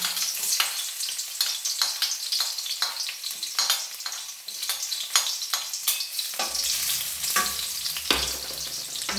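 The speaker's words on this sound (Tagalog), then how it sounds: "Igisa ko na po ang bawang." Garlic sautés in a pan with steady, loud frying sizzle and scraping stir strokes, a lower bubbling hiss joining near the end; no voices.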